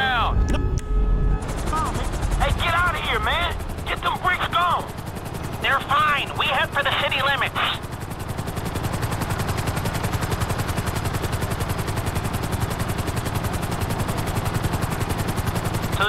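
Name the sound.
helicopter in Grand Theft Auto 5 video game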